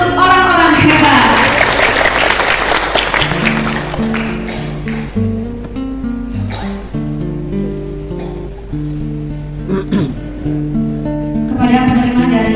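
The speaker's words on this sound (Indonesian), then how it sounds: "Tepuk tangan untuk orang-orang hebat." Applause for award recipients at a school Adiwiyata ceremony in Jember bursts out loudly in the first few seconds, then gives way to music that carries on to the end.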